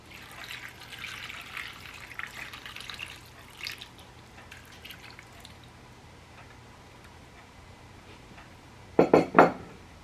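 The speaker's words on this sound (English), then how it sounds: "And to this now I'm going to add 2 cups of water." Two cups of water poured into a pot of chicken and rice, heard as a soft trickle and splash that fades, followed near the end by a few sharp metallic clinks of the pot.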